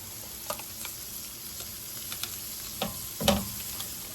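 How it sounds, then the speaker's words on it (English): Onions sizzle in a pan for a burrito filling, a soft steady frying hiss broken by scattered crackles and a few stirring scrapes, one clatter near the end, close and quiet with no talk. "let these fry up a little bit until they caramelize"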